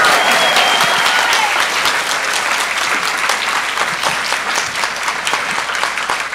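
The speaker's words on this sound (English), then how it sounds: "Come on, give them another big round of applause." Sustained applause from a luncheon audience at an aphasia recovery center, a dense steady clapping that fills the room at close range, with a few faint voices mixed in.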